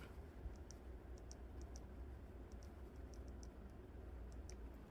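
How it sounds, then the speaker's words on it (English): A computer keyboard's escape key is tapped repeatedly on a mini PC during BIOS setup, giving faint, sharp clicks in small irregular bursts over a low background hum. "I will be pressing on escape to actually get into the BIOS"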